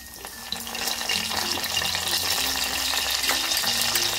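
Curry leaves drop into hot oil already crackling with cumin and mustard seeds, setting off a loud, steady sizzle and spitting that swells after the first half second and holds, with light spoon stirring and no voices.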